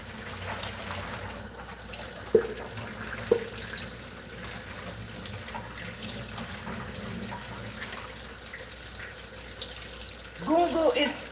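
Water being poured off soaking salted fish in a home kitchen makes a steady, moderately loud splashing rush that runs throughout, with a couple of sharp clicks early on and a brief harmonic sound near the end.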